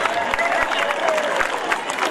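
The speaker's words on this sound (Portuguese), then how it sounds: "Vamos aplaudir" Crowd applauding at a gaucho Farroupilha parade in Santana do Livramento, steady dense clapping with occasional cheers, voices mixed in through the crowd.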